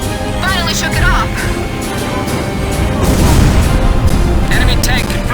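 Tank destroyed by gunfire in Ace Combat 5: loud booms and crashing explosions over continuous gunfire and rumbling combat noise, with radio voices talking throughout.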